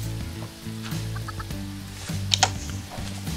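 Chicken clucking from the video game Minecraft: a few short, clipped cluck notes, with a brighter cluster near the middle, over a steady bed of game music and ambience; no talking.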